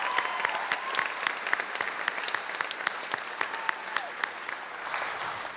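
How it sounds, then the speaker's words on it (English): At a college Hall of Fame ceremony, an audience claps for newly inducted athletes, a steady round of many hands with sharp individual claps standing out, lasting several seconds at moderate loudness. "Let's give a round of applause to our newest athletes here."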